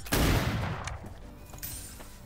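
Gunfire from pirates at a wild pirate encampment in the video game Atlas, a sharp close burst of shots at the start followed by decaying rumble and scattered faint shots.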